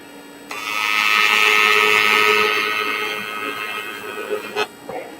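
A steady high-pitched buzzing hiss of TIG welding on anodized aluminum holds for several seconds, swells and then tapers. A few sharp clicks follow as the arc stops.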